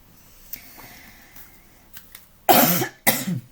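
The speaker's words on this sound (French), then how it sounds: "J'arrête pas de tousser, comme par hasard." Two loud, harsh coughs close to the mic, the second following shortly after the first, with a few faint clicks and rustles before them.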